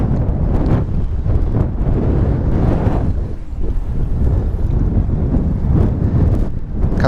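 Strong wind buffets the microphone on the coast near Sunderland during light rock fishing, a loud gusty roar with rising and falling surges throughout.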